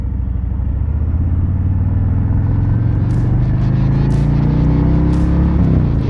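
A custom 2021 Harley-Davidson Road Glide bagger rumbles loudly on the road around Los Angeles, its deep engine note climbing steadily in pitch as it accelerates, then easing near the end amid wind noise.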